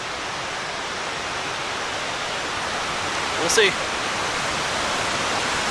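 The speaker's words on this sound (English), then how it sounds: "foaming cascades down there" Foaming cascades on Hornbecks Creek near Lower Indian Ladder Falls in the Delaware Water Gap give a steady, broad rushing roar that never lets up, with a short spoken phrase partway through.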